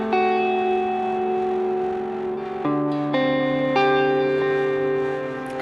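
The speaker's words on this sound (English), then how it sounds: "I've got a distortion I can put on the reverb." Guitar played through a BOSS GT1000 with distortion applied to the reverb: held, buzzy sustained notes shift pitch a few times, each change blooming into a wash of gritty, reverberant tail, clear and alone.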